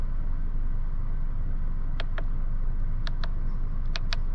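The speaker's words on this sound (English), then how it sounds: "Not doing anything since we're just idling." A 2020 Honda Civic Si engine idles with a steady low rumble from inside the cabin, joined by a few short, faint electronic chirps near the end.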